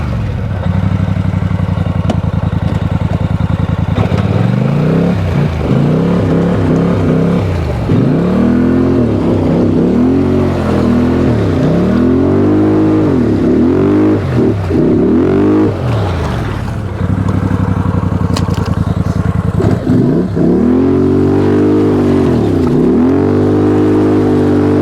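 A 2023 Polaris Sportsman 850 Highlifter Edition ATV engine revs hard while stuck in thick mud, loud and close, surging up and dropping back again and again with clattering underneath.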